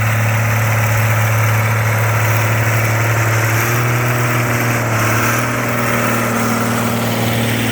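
An old tractor engine, of a kind used for farming as in the 1940s, idles loudly and close by with a steady, even, throbbing hum that holds throughout, with no talking.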